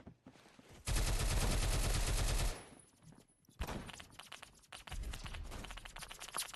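Rapid automatic gunfire from the video game Phantom Forces rattles in a dense, loud burst lasting well over a second, then after a brief lull more scattered shots and clattering continue steadily.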